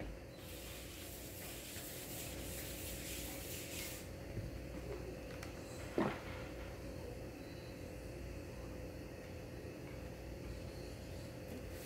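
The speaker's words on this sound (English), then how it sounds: "right now we're just gonna lightly grease our grill" Oil is lightly sprayed onto a pancake griddle: a soft, steady hiss for the first few seconds over a constant low hum, then one brief close clunk.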